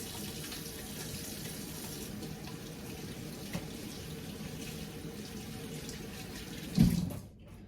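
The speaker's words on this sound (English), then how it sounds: "I'm going to go ahead and wash my hands before I touch anything else" Tap water runs steadily into a kitchen sink while hands are washed under it, a close, even rush lasting several seconds before a brief splash and the flow cutting off.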